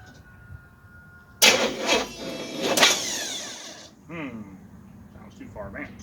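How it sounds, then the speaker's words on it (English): A Chevy Nova engine cranks over and catches: a quiet idle-free lull, then a sudden loud burst of starter whir and combustion, a second surge, then it fades back toward a rough low run. "I'm going to turn it over a few times and then I'll bump the fuel on and try it again"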